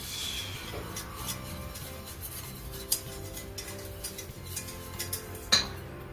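Crab imperial mixture with a cup of cream being gently stirred with a utensil in a bowl, producing soft continuous scraping and light clinks, with a couple of sharper taps against the bowl's side.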